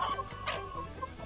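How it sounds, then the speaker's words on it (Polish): Several chickens cluck close by in a steady, busy chatter, with short overlapping calls and a bit of rustling underneath. "zobaczcie, jak moje kury już reagują"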